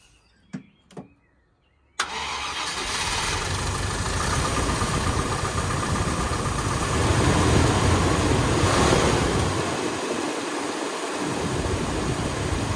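Following a couple of faint clicks, a Land Rover 90 V8 engine abruptly roars into a loud, steady, rumbling idle that continues close by for the remainder.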